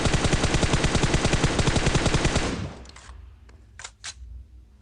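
Rapid automatic gunfire sprays from a shooter video game, a loud dense burst of shots lasting about two and a half seconds before cutting off, followed by a few faint, scattered clicks and thuds.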